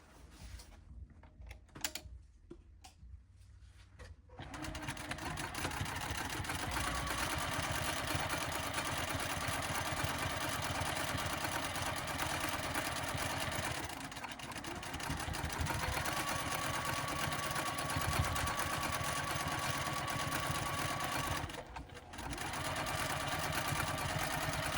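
A sewing machine stitches the seam of a crescent bag, running in a long, steady, close mechanical purr after a few short starts, with brief pauses partway through.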